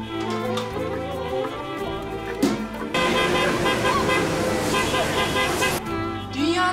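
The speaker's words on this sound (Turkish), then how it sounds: "Dünyanın hiçbir yerinde insanlar evlenirken kornaya basmıyorlar." Several car horns honk in street traffic during a wedding convoy, with broadband blaring bursts over continuous road noise and people talking nearby.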